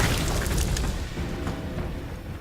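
A Gears of War 4 explosion: a loud, broad rumbling boom with dense low-end energy that holds for about a second and then tails off into a sustained roar, with no speech over it.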